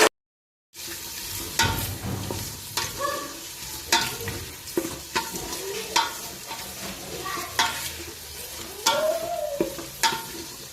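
Sliced onions and green chillies sizzle in hot tempering oil, with repeated close stirring scrapes and clinks of a spoon against the pan throughout, after a brief silent start; no one speaks.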